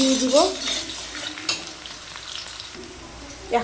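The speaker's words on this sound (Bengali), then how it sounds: "থেতো করে রেখেছি রসুনটা দিয়ে দিলাম" Crushed garlic drops into onions already frying in a pan for a North Bengal sidol dish, with a steady close sizzle, a few utensil scrapes and stirring clinks.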